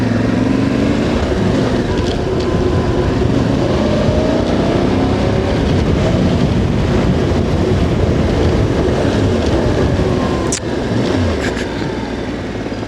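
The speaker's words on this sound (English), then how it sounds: "I can hear that engine. There is a bit of a blat out the exhaust." Voge DS625X motorcycle engine and exhaust while riding, a steady loud drone with a slight blatty exhaust note, wind rush throughout and a brief shift in tone near the end, no talking.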